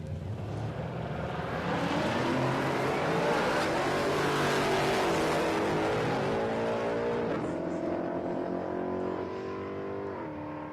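A Mustang drag race car roars at Palmyra Raceway, its engine revving hard and loud for several seconds with rising pitch sweeps before easing off, heard from nearby at the track.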